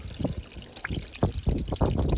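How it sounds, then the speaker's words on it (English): Water trickling into a truck cab near the body control module where the antenna line enters, a faint irregular run of small splashes and drips close by. "trickling down, going into the inside the cab by the BCM where the antenna line goes in at"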